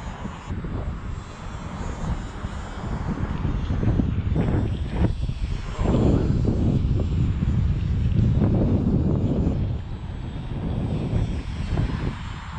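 An EazyRC PA18 ready-to-fly RC model plane flies into the wind, its small motor droning steadily throughout amid heavy wind buffeting on the microphone, the level swelling and easing as it struggles along.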